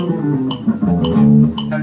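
An electric guitar runs a straight diatonic scale sequence, playing quick successive picked notes at a steady pace that sound close and clear, with no talking.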